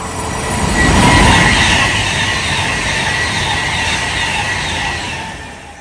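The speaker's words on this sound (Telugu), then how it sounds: "ఎంత స్పీడ్ పోతుంది చూడండి ట్రైన్." A fast train between Milton Keynes and Crewe in England rushes past with a loud, steady roar of wheels and rails, swelling early and then holding, with a faint squeal on top.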